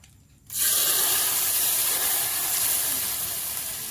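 Hot coconut-oil tempering of mustard seeds, dried chillies and curry leaves poured into jackfruit sambar, erupting into a loud, sustained hissing sizzle right up close that slowly eases off, with no talking.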